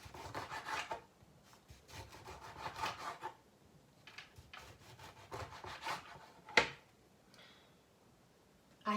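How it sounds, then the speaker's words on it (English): Knife slicing a couple of lemons into rounds on a cutting board, giving repeated scraping, rasping cuts in short bursts with a few quiet pauses and one sharp tap near the end; no talking. "I've got a couple of lemons. I'm just going to put them into slices,"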